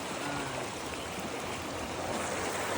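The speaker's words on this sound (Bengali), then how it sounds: "প্রচন্ড স্রোত এখানে, এবং জায়গাটা বেশ সুন্দর" A strong current in a Finnish river rushes past in a steady, loud, broadband wash of flowing water, near and continuous, with no voices.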